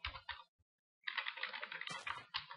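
Rapid keystrokes on a computer keyboard in the Minecraft ComputerCraft mod as code is entered, with a short opening burst, a brief gap, then a dense continuous run of close clicking.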